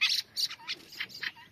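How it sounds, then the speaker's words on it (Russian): Young thrush fledglings squeak in a series of short, high, thin calls, about six spaced bursts close by, with only faint background and no talk. "Вот эти сейчас маленькие ребята, они уже такие подросшие. Они вот попискивают еще"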